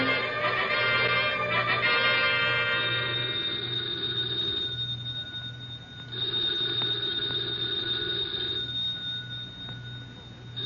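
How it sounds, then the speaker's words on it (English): An old-fashioned telephone bell rings in a steady, insistent trill, loud and close, pausing briefly between rings over a low hum. "The phone."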